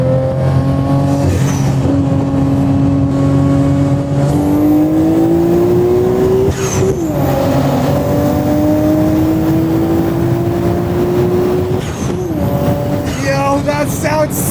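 Nissan Skyline R33 engine revving loudly and continuously, pitch rising and falling through several throttle sweeps, with people talking over it.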